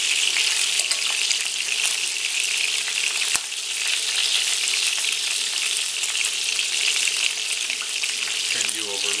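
Beef browning in a pot for Greek stifado, a loud, steady hiss of sizzling fat that runs throughout, with a sharp clack partway through and a brief scrape near the end.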